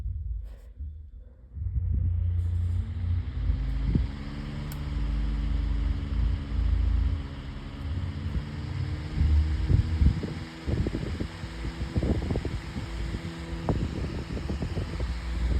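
A modern electric fan runs steadily, giving a continuous whooshing airflow over a low motor hum with faint tonal whine, while scattered light clicks and knocks appear toward the end.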